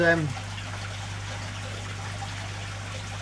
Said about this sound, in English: I'm going to test fill it again today